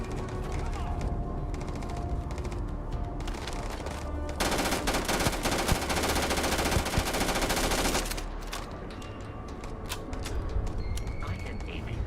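Gunfire in the video game Starfield with a big shotgun, a dense stretch of rapid shots and mechanical clatter filling the middle of the clip, with busy game sounds before and after.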